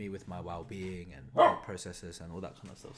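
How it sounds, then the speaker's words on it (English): A dog barks in the background while a person keeps talking over it; the barking sounds fairly faint, with one louder burst partway through. "Sorry if you can hear a dog in the background"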